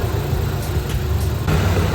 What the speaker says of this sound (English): I'm idling so high.